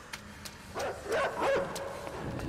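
A dog in the video game Inside barks in a few short, sharp yips and bow-wows at mid distance, rising in a cluster over a faint ambient background.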